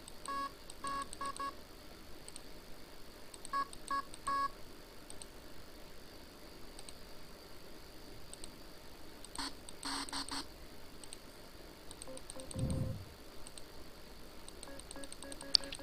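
Short synthetic beeps and tones from an FL Studio 3x OSC synthesizer, bright retro video-game-style blips in quick clusters and scattered single notes, with a brief low thump near the end and no voices.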